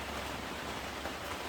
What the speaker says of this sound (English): it's raining pretty hard out right now.